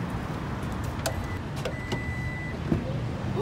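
A 2016 Toyota Prius door opening automatically with a soft electric motor whir and faint mechanical clicks, close by over steady low background rumble, no talking.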